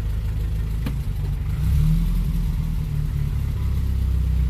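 Peugeot car engine running close by, a steady mid-pitched drone that swells slightly in the middle and then holds, with no one talking.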